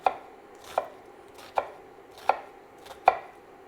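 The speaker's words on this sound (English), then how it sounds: "we're just going to roughly chop this onion" Five sharp knife strikes chopping an onion on a cutting board, spaced at an even, steady rhythm, close and clear with no talking.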